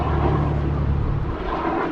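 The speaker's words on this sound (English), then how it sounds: "Hello, plane." A fixed-wing airplane passes overhead above a lake where anglers are ice-out crappie fishing, its steady low engine drone loud and continuous throughout, with no talking.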